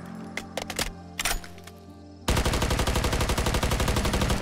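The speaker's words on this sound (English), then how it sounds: "These rifles have significant recoil and produce loud gunshot sounds" Modded rifles firing in Fallout 4, first a few scattered sharp shots, then a dense, rapid automatic burst of loud, evenly spaced reports that continues to the end.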